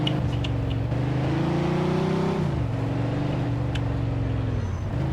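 Car engine droning steadily in the video game Mafia 2, a continuous loud hum whose pitch rises gradually, then dips and settles as the car drives on, with faint clicks over it.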